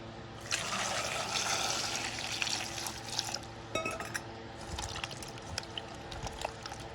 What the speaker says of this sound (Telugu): శుభ్రంగా కడిగి కట్ చేసుకుందాము